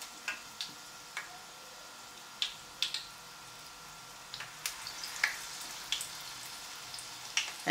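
Battered stuffed flowers frying in hot oil give a quiet, steady sizzle dotted with sharp, irregular crackles and pops, close up with no talking.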